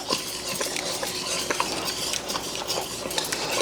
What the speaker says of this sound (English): Just gonna stir, stir, stir.